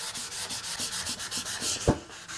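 Hand sanding of a wooden Egyptian stool coated in milk paint, a steady rhythmic scratchy rubbing of strokes back and forth, close and clear, with one brief knock near the end and no talking.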